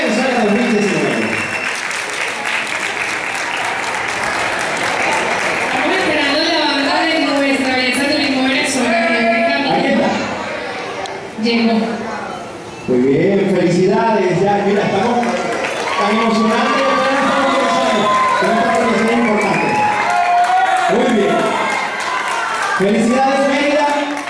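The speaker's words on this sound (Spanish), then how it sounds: "aplausos para nuestra belleza turismo Venezuela 2019 y Baby Models Venezuela 2019" Applause from the audience at a children's model pageant in Venezuela, steady clapping and crowd noise running throughout under a continuous amplified host voice and music, with a brief lull near the middle.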